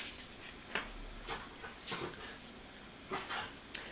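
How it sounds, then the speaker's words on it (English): Small pet dogs whimper and yip faintly in the background of a room during an oil painting session, with a few brief high-pitched bursts scattered through the quiet. "Those little noises that you hear in the background are my dogs."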